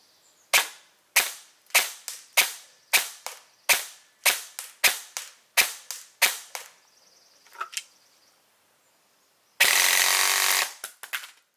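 A high rate-of-fire airsoft gun sends about a dozen sharp, loud cracks in a quick uneven string, then a couple of fainter clicks, a pause, and a sustained roaring burst of rapid fire that cuts off abruptly.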